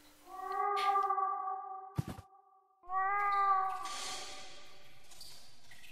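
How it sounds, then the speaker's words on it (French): A cat in the eerie game The Last Door meows loudly twice, long drawn-out cries separated by a short sharp knock, the second trailing off into a rustle. "le son est plus fort ici. C'est normal, c'est un chat."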